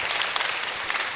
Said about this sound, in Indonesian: Kasih tepuk tangan nih buat yang pada tanya nih.